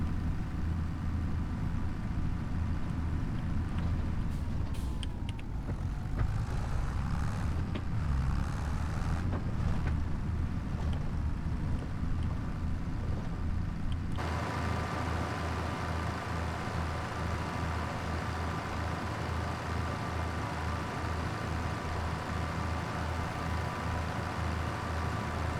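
Tractor engine running steadily in Farming Simulator 25, a continuous low rumbling drone with no pauses, heard alone at moderate level for the full length, its tone shifting partway through.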